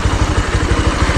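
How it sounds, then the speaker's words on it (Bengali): A motorcycle crosses a Bhutanese river, its engine chugging in a steady, loud, close pulsing rhythm with clattering and splashing texture, no voices. "বাইক নিয়ে নদী পার হচ্ছি"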